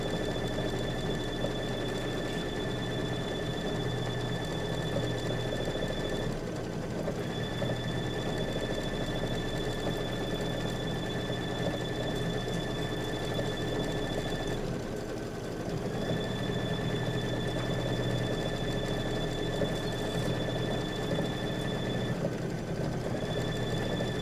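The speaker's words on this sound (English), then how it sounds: "So go ahead and stitch out your weave." A Baby Lock embroidery machine stitches a weave quilting pattern in a continuous close hum with a rapid needle clatter. Its high whine drops away briefly about every eight seconds as the machine shifts position, and no one speaks.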